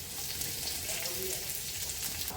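Garlic and red chili frying in hot oil for dal fry, a steady crackling sizzle with fine spitting pops throughout, close and fairly loud, no voices.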